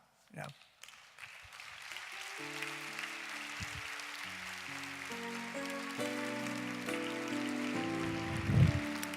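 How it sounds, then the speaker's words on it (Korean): A Sunday church congregation in Korea breaks into sustained applause at a scholarship award for a top graduate, beginning as a few scattered claps and swelling into a dense, rain-like wash, with organ or keyboard chords sounding underneath. "다시 한번 박수 한번 해주시겠습니다."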